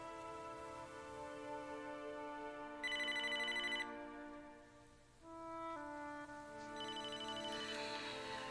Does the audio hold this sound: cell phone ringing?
yes